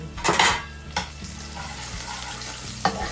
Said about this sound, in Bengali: ফোড়নে দিয়ে দিলাম শুকনো লঙ্কা গোটা জিরে রসুন কুচি অল্প একটু হিং